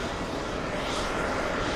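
A Boeing 777 jet on short final approach, its engine roar a broad, steady rush for a moment with no voices.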